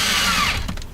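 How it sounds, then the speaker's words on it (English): A power drill drives screws into a wooden base plate for a van kitchen build, a brief close whirring burst that slows and tapers off within a second. "now I'm drilling on the base plate"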